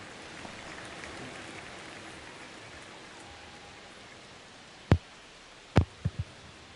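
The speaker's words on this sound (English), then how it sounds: "It is storming outside." Steady rain from a thunderstorm hisses outside as an even wash of noise, broken near the end by a few sharp close knocks.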